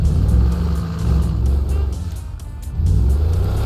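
A deep SUV engine in a video game revs and rumbles repeatedly, surging loud, easing off, then climbing again in a heavy, throaty growl.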